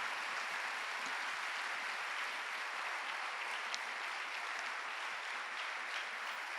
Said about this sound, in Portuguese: eu queria que você o aplaudisse por isso